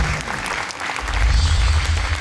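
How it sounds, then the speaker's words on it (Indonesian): Audience applauding contestants at a Quran recitation talent challenge, a dense burst of clapping that swells louder toward the end, with no talk over it. "Sekali lagi tepuk tangan untuk 3 peserta talent kita yang sudah maksimal melakukan yang terbaik yang mereka bisa"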